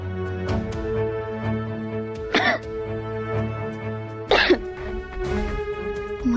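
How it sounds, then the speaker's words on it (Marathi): A woman named Swanandi, unwell with a fever, coughs in two short harsh bursts over steady background music in an indoor drama scene. "त्यात खोकलाही लागलाय तुम्हाला."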